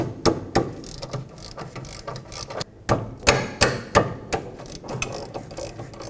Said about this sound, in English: now we can undo the two 13mm bolts that connect the caliper bracket to the knuckle